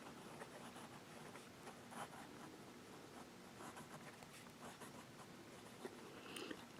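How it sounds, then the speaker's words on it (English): A medium-nib fountain pen scratches quickly across paper, written in reverse, giving faint, soft, close strokes with short pauses in a quiet room. "I would say this is a medium nib and reverse writing. And I'm writing fast."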